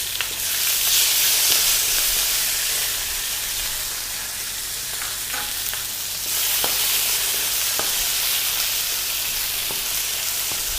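Green chili and tomatoes hit hot oil in a Malaysian fish head curry, giving a loud, steady sizzle and hiss that runs the whole time with a few faint stirring scrapes and no voices.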